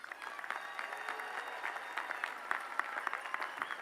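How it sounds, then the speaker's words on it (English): A large audience applauds at a university graduation commencement, a steady, even wash of many hands heard from a distance with no break, faint tones ringing underneath. "We want to give them certainly another round of applause for their hard work and perseverance."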